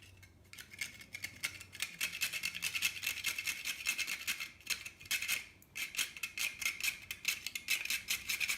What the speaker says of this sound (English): I'm going to grate some nutmeg